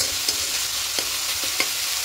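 Amaranth greens (note shak) fry in a pan, giving a continuous hissing sizzle broken by a few sharp clinks of a utensil against the pan.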